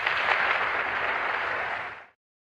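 Applause from an audience in an archival recording of a speech about the war in Vietnam, a dense steady clapping wash that carries on for about two seconds and then stops abruptly.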